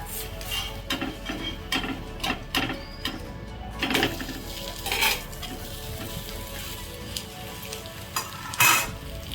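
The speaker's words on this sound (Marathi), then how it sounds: "दोन्ही बाजूने चांगला काबूस होईपर्यंत जरा शेकून घ्यायचं" A thin sweet cucumber pancake (dhirde) roasts in a pan, giving a steady soft sizzle broken by scattered scraping and clinking of a utensil against the pan.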